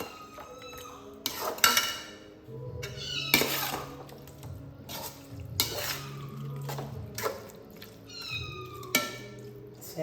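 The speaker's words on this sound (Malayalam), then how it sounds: "അപ്പം നമ്മളെ മസാലയ്ക്ക് ഒരു കയ്യിൽ തൈരിട്ട് കൊടുക്കാം. എന്നിട്ട് നല്ലോണം ഒന്ന് ഇളക്കി കൊടുക്കാം." Biryani masala is stirred with yogurt in a pot, making intermittent clattering scrapes and knocks of utensil on metal, while a nearby cat meows repeatedly over the stirring.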